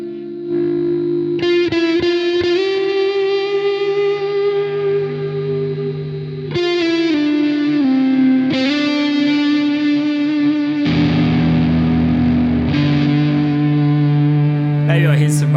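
Electric guitar driven through a Valeton Loft Series DS-10 distortion pedal, a modded Boss DS-1 style circuit, playing sustained distorted chords and notes that ring out loud and saturated, with new strums every few seconds and no talking.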